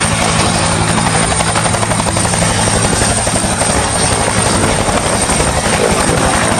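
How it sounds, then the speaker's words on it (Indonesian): A helicopter drones loud and steady throughout, its rotor chop unbroken and close, with no voices over it. "helikopter"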